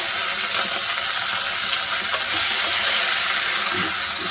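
Chicken mince hisses and sizzles steadily in a hot pan with spices, a loud, continuous close-up frying noise that holds without pause throughout.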